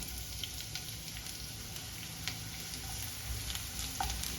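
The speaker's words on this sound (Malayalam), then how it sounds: "ചൂടായിട്ട് അതിലേക്ക് നീളത്തിൽ അരിഞ്ഞു വെച്ച സവാള ഇട്ട് കൊടുക്കാം" Long-sliced onions sizzle in hot coconut oil as a soft, even hiss that stays faint and continuous throughout, with no voices.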